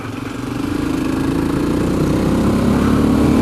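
A single-cylinder motorcycle engine throbs loudly and close, its rapid exhaust pulses building slightly in pitch as it revs.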